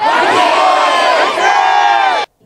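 A crowd of citizens in white overcoats waving Taegeukgi flags shouts "Daehan Minguk manse" in unison, one loud sustained collective cry that breaks off abruptly near the end.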